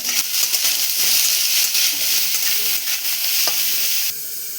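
Carrots and salt tossed into hot oil crackle in a loud, dense, continuous sizzle up close, with stirring clatter throughout and the hiss easing slightly toward the end.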